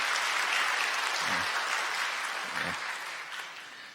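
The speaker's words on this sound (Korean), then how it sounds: "여러분들 축하의 박수 보내주시기 바랍니다" A church congregation applauds during a Sunday worship service, a broad, even wash of clapping from many hands that holds steady and gradually fades toward the end.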